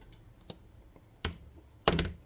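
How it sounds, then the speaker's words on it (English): Cutters snipping through a piece of plastic model-kit sprue, heard as a few sharp clicks and snaps spaced apart at close range, the last one loudest. "we need a piece of sprue. And I'm going to snip off"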